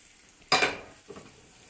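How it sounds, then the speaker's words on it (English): Butter hits a hot pan with a sudden loud sizzle that trails off, followed by a softer second burst of frying noise, close and without talk. "Crank that heat up. And all that butter's melting."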